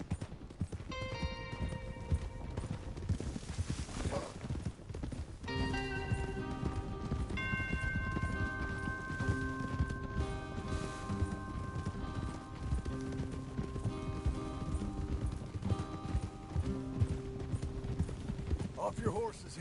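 Horse hooves clip-clopping in the video game Red Dead Redemption II, a steady rhythmic trot heard throughout beneath in-game music and someone talking.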